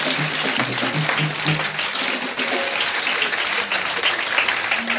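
A church congregation at a night deliverance and restoration vigil applauds and cheers together, steady dense clapping filling the room with voices rising underneath, continuous and loud throughout.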